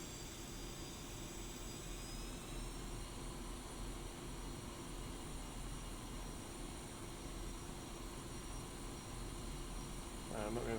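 Jet aircraft taxiing in the DCS flight simulator game, a steady, moderately loud engine whine and hum running continuously with no pauses.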